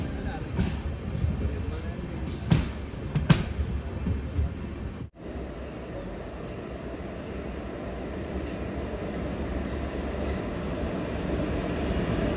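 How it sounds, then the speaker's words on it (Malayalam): Guruvayur–Thiruvananthapuram Intercity Express at a station platform, a low steady rumble of the train under station ambience, with a couple of sharp clanks early and a brief cut midway, and a voice speaking at times. "ട്രെയിൻ വന്നത് 2-ാം നമ്പർ പ്ലാറ്റ്ഫോമിലാണ്"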